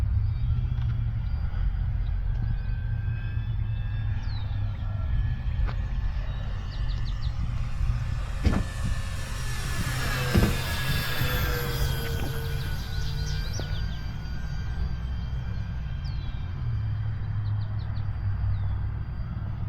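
An Eflite F4U Corsair RC plane flies past, its motor whine rising and then falling as it sweeps by overhead, over a low wind rumble and faint bird chirps.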